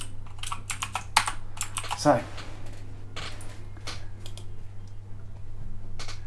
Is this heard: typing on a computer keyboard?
yes